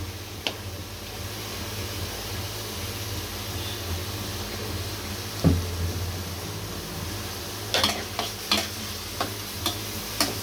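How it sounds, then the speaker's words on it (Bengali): Onions frying in oil until crisp and browned for beresta, a steady close sizzle running throughout with occasional sharp ticks and clinks of a spoon stirring in the pan. "পেঁয়াজটা বেরেস্তা করে নিচ্ছি বেশি করে"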